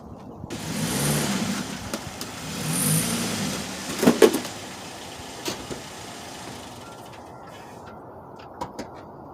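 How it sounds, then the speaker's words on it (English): A Chevy Cobalt with over 315,000 miles rolls slowly up onto ramps for an oil change, its mid-pitched engine rising in two gentle revs, then a few knocks and clunks as the car settles before the engine quietens. "First thing I'm going to do is drive up on the ramps."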